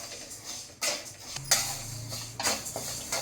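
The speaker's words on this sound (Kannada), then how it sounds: "ಇದು ಫುಲ್ ಸಣ್ಣ ಉರಿಲಿ ಈ ಥರ ಕೈ ಆಡಿಸ್ಕೊತಾನೆ ಇರಬೇಕು, ಬಿಡಬಾರ್ದು." Green gram dal being stirred and roasted in a pan over a very low flame, giving a close scraping and rattling of a spoon against the pan with soft clinks and no talking.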